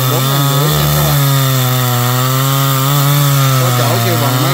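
A chainsaw of about 4.5 horsepower grinds steadily through the thick trunk of a large golden acacia tree, loud and close, its engine pitch dipping and rising as the cut bites.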